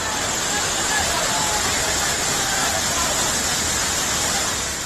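Floodwater tears through Nainital, Uttarakhand, after a sudden heavy downpour, a loud, unbroken roaring rush of water with no pauses.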